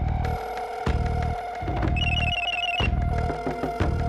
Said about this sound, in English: Then she heard a ringing on the other line.